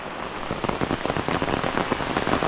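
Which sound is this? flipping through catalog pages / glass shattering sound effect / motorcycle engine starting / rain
rain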